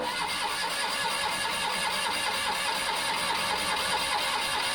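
A rare Citroen Acadiane's engine cranks steadily without catching, a continuous mechanical whirr with fine regular pulsing held at an even level throughout, no voices.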